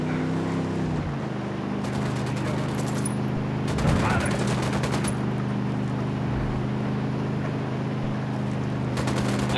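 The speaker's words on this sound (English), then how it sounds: "Opening fire on these fuckers." Sustained gunfire exchange in Ghost Recon Wildlands: loud rapid bursts over a steady low vehicle engine drone, with heavier clusters of shots around two and four seconds and again near the end.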